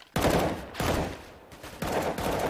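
Sustained rifle fire rattles through walls in a competitive shooter match, three dense bursts of rapid shots, loud and close, with no talking.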